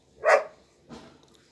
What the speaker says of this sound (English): you can hear my dog's barking outside and the wind blowing